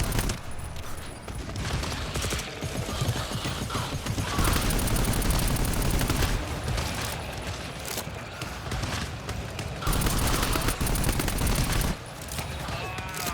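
Automated turret gunfire in GTFO, long sustained bursts of rapid shots in several waves, loud and dense, with fighting sounds around it and occasional voices in French.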